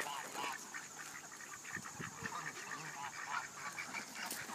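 Ducks or geese crowd around a child's stroller outdoors, quacking and honking in a busy, continuous chorus of overlapping calls close by, with a steady wash of background noise and no clear speech.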